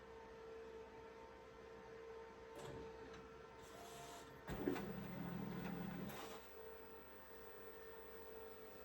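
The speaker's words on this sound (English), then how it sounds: "on my DTF printer, it has a paper feed. I just feed it forward a little bit" A quiet DTF printer hums with a steady tone, then its motor briefly whirs as paper is fed forward, followed by faint mechanical clicks.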